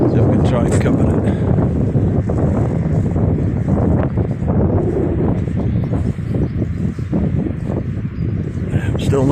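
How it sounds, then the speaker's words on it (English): Gusty wind buffets the microphone outdoors on a street in Llandudno, a loud, continuous low rumble with uneven surges across the whole stretch, while a person talks intermittently beneath it. "Get a bit windy, sorry."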